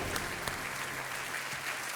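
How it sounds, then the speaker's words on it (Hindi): Steady studio audience applause fills a game-show set after a contestant's correct answers, a dense, even patter of many hands clapping close by without pause for the whole stretch. "तालियां बजती रहनी चाहिए इनके लिए"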